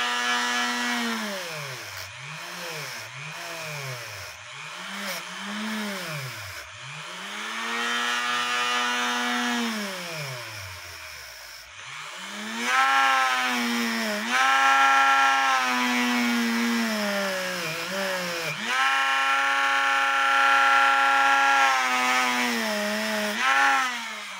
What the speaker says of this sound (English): it wasn't made for a Dremel. And so it will make your Dremel get warm after prolonged use.